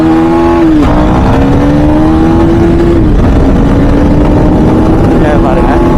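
A 2024 KTM Duke 250 motorcycle accelerates hard toward top speed, its engine roaring loud and close through a brief gear change, with a rider's voice talking over the rush of wind.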